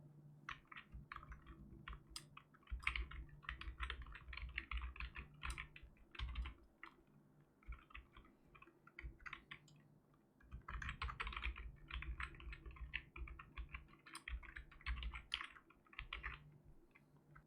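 Password being typed on a computer keyboard while creating a new Gmail account: steady runs of quick, close keystroke clicks with brief pauses between bursts, no voices.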